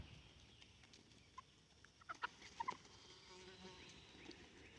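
Faint, soft clucks from a few hens at a distance, a short cluster of calls over a quiet background.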